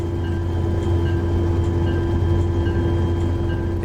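A diesel freight locomotive in Train Simulator 2020, hauling a BN intermodal train, drones steadily as its engine revs, a loud continuous rumble with faint rail clatter and no talk.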